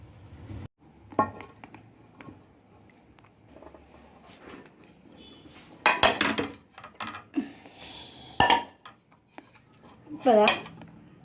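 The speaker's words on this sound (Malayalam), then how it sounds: "അപ്പോൾ അത് നമുക്കൊരു ദോശക്കല്ലിലേക്ക് മറിച്ചിട്ടിട്ടൊന്ന് വേവിച്ചെടുക്കാം." Spicy chatti pathiri is turned over onto a dosa griddle to cook on the stove, giving scattered metallic clatters and scrapes of pan and utensil, with a few loud close knocks between quieter handling sounds.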